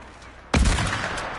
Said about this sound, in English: I'm gonna shoot a no-scope and see if it hits somebody.